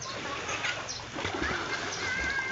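Water splashes and sloshes in a swimming pool in irregular bursts, with a voice speaking now and then over the splashing.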